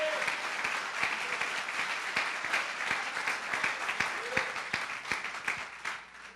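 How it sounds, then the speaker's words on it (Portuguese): A church congregation claps together in sustained, fairly loud applause, dense and even throughout with no talk over it. "Dê uma salva de palmas ao Senhor."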